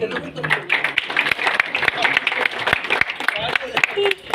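An audience in Delhi claps to welcome a speaker, with uneven, scattered claps and sharp individual hand strikes mixed with murmuring voices, moderately loud and close.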